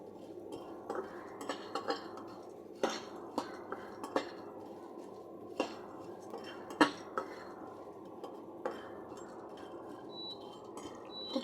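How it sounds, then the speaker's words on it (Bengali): Pumpkin seeds fry slowly over low heat in a pan, giving off scattered sharp pops and crackles at an irregular pace. Faint clinks like a utensil against the pan mix in with the pops. The sound is close and nobody talks. "ফটফট করে যখন ফুটে উঠবে, যে ফটফট করে ফুটছে, এর মানে এটা হয়ে গেছে।"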